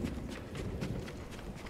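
Hooves clip-clop in a quick, regular rhythm as a horse runs in the Ghost of Tsushima video game, faint and steady against a low background rumble.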